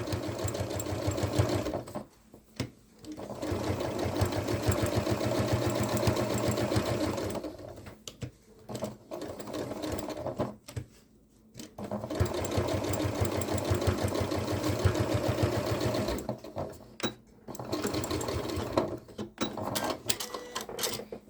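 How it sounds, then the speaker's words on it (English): A sewing machine topstitches a fabric pocket for a gardening bucket caddy, running in long steady bursts of rapid mechanical stitching broken by a few short pauses, close and clear with no talking. "we're gonna go ahead and do a quick top stitch just to finish off our pocket"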